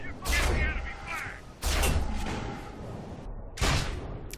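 Sniper rifle headshots in a video game, three sharp loud cracks spaced about a second and a half apart, each with a short echoing tail.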